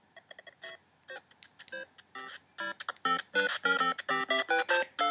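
iPhone ringtone previewed through the Ringtone Plus app: a bright electronic melody of quick beeping notes, sparse and choppy at first, then building into a louder, denser repeating phrase, with no voices.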